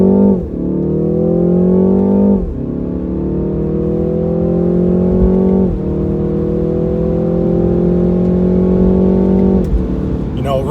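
A 2019 BMW 330i xDrive M Sport pulls hard from a standstill to 60 mph, its engine rising loudly through the revs with brief dips at each gear change, heard close from inside the cabin.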